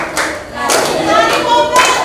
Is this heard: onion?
no